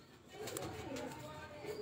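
A Neeluma bloodline pigeon from Faisalabad coos softly on a rooftop, a faint, low, brief call with a voice murmuring in the background.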